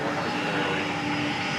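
An airplane roars while departing from a runway at DFW airport at night, a steady, loud engine rumble with a whining tone carrying through the short stretch.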